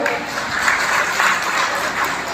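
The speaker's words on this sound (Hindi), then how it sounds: "उनको तालियों के साथ स्वागत" Audience applause welcoming guests at a community felicitation ceremony, a steady, dense wash of clapping that holds evenly throughout without pauses.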